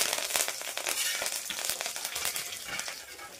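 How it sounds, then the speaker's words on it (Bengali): Bay leaves, slit dried red chilies and curry leaves sizzle and crackle steadily in hot oil for dal, a dense continuous frying hiss with scattered pops, close and moderately loud, no voices. "এর মধ্যে তেজপাতা দিয়ে দিচ্ছি, শুকনো লঙ্কা মধ্যখান থেকে চিড়ে দিলাম। এর মধ্যে দিয়ে দিচ্ছি কটা কারি পাতা"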